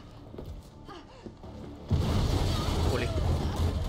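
A booming explosion in the video game Resident Evil 3 Remake erupts about halfway through and swells into a sustained rumbling roar. Quieter game sounds and a voice come before it.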